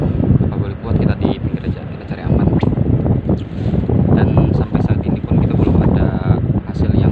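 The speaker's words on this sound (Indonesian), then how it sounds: "sudah anginnya terlalu kencang." Strong wind buffets a fishing boat at sea, with heavy gusty rumble and water noise throughout, loud and close, while people talk over it.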